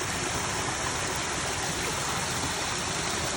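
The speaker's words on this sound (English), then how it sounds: "I do love the sound of running water like that." A restored garden waterfall pours continuously, a loud, steady rush of running water with no pauses or voices.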